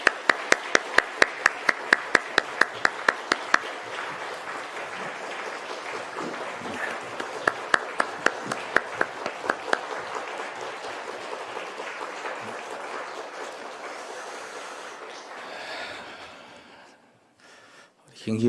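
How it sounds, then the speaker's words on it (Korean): Congregation at a Korean church dawn prayer meeting clapping in strong, even unison beats, which loosen into scattered applause and fade out near the end, with voices faintly beneath. "다시 한번 우리 박수하겠습니다."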